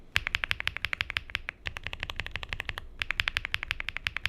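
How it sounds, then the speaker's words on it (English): Keystrokes on a mechanical keyboard fitted with Akko mirror switches, a creamy clacking in rapid, steady bursts of typing with one short pause partway through, close and clear with no talking. "they are pre-built with mirror switch, and the sound is more creamy"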